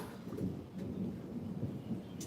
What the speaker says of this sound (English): Well, there's some rain.